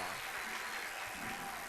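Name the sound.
congregation applauding in church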